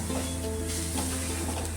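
Shredded cabbage dropped a little at a time into a hot tempering in a pan for a home-style cabbage bhaji, sizzling steadily with a dense crackling hiss and faint stirring, no talk.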